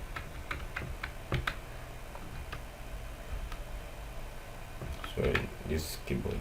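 Soft, irregular keyboard clicks tapping away at a steady pace, with a low background hum and a brief murmur of voice near the end.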